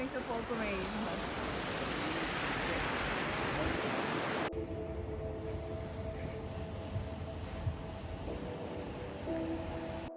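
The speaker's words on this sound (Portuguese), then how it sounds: "Tá chovendo muito pouco mesmo." Light rain falling outdoors, a constant soft hiss of drops that stays fairly close and even throughout, with a muffled change partway through and faint talking in the background.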